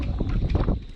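Strong gusting wind buffets the microphone at a boatyard beside a 12-tonne sailing yacht, a continuous low roar that swells and dips throughout with no voices.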